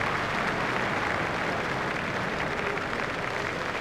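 Sustained, dense applause from a large cricket stadium crowd standing to acknowledge Ricky Ponting's fifty during a South Africa vs Australia one-day international, steady and even throughout with no voices standing out.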